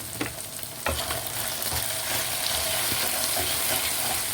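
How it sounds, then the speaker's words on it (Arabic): Chinese-style soup in a pot being stirred, with a steady sizzling, bubbling wash and a few soft scrapes and clinks of the spoon, close and continuous with no talk. "وغادي نحركوها مزيان"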